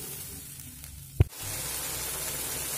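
Spice paste with turmeric and a little water frying in oil: after a sharp clatter, a steady, even hiss of sizzling takes over and holds loud and close to the end.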